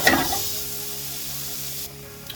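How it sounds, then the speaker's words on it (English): Beans sautéing gently in a pan for chicken xacutti give a steady, soft sizzle that runs on without pause and drops a little quieter near the end. "this has been cooking down for a couple of minutes, just sauteing gently"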